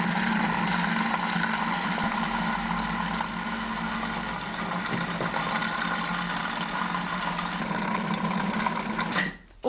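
A food processor motor hums steadily while mixing cupcake batter with milk added, a constant whirring drone close by that cuts off abruptly at the end.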